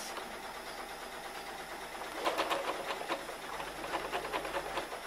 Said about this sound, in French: Et donc il faut les piquer pour aller rejoindre la première piqûre ici.